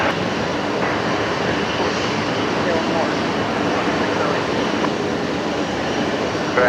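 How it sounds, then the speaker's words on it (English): A Nauru Airlines Boeing 737-700 jet arrives at Brisbane airport at night, producing a loud, continuous broadband engine roar that holds steady throughout without a clear peak. "Our next aircraft to arrive is going to be the Nauru 737-700, coming in from Nauru,"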